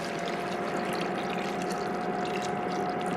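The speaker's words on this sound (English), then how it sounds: "I'm just going to add that water in here." Water poured from a measuring cup, about one and a half cups, into a soup pot for chilled Sun Gold tomato soup, a steady close splashing pour lasting a few seconds with a constant hum in the background.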